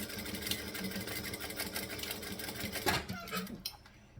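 A sewing machine backstitches in quick back-and-forth runs, humming close by, with faint talk underneath and a short clatter before it stops.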